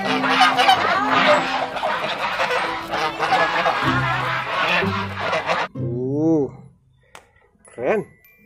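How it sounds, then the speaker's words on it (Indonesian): Honking quacks from ducks sound close by, several loud calls in a row amid chattering voices and background noise, then a couple of isolated honks. "Wih, ini ada bebek teman-teman."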